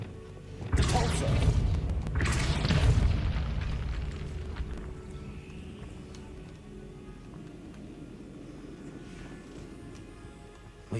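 The Depulso spell is cast in the video game Hogwarts Legacy. Two loud, close bursts land about a second apart and fade into a long, rumbling decay.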